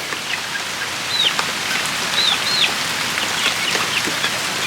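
Steady rain falls outdoors in a broad even hiss, with a few faint bird chirps far off in the background and no voices.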